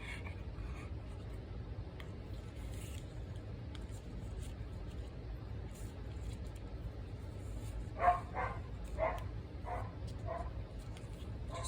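A few distant dog barks around the middle, brief and fairly faint over a steady background hiss, with quiet ticking sounds earlier.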